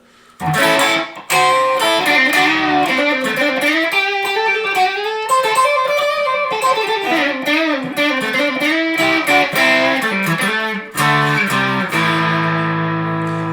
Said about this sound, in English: Put a little distortion on.